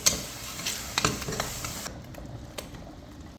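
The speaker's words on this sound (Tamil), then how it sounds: "இப்போ இதை நல்லா வதக்கிக்கலாம்." Soft sizzling of masala paste sautéing in a pressure cooker, with intermittent scraping and stirring clicks of a utensil, close and quiet, no talking.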